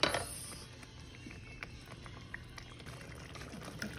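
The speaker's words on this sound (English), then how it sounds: "Pour some more of the sauce in it." Thick tomato sauce pours steadily and quietly close by, with small clicks and glugs scattered over a soft background.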